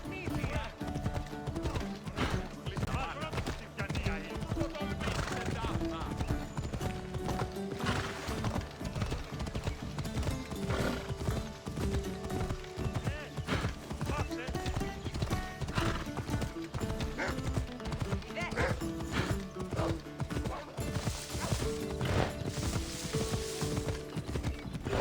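A horse gallops in Assassin's Creed Odyssey, its steady, loud hoofbeats clopping throughout and joined by an occasional whinny, with game sounds layered over them.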